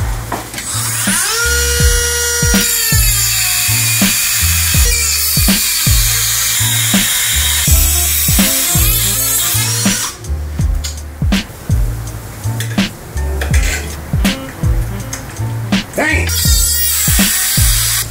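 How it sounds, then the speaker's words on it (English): A Dremel rotary tool grinds a bigger hole for wiring connectors on an electric bike hub motor upgrade, a loud high-pitched whine that rises and falls in short bursts and pulses throughout. "So Dremel tool, I gotta cut a bigger hole."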